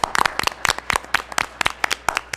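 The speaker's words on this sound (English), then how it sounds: "why don't we go ahead and give them a quick round of applause" A small crowd at a school board meeting gives a quick round of applause for honored seniors, a short burst of scattered hand claps, fairly close and with no talking.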